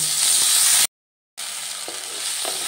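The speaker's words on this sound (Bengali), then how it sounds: "এবার ওই তেলের মধ্যেই আমি দিয়ে দিচ্ছি ভাপিয়ে রাখা ব্রোকলিগুলো। হালকাভাবে একটু ফ্রাই করে নেব।" Steamed broccoli frying in hot oil in a wok, a steady loud sizzle with a brief full dropout near the middle before the hissing resumes, with faint stirring clicks.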